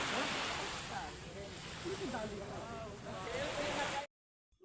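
Steady roar of sea waves and surf washing in, with faint voices underneath, then abruptly cutting to silence.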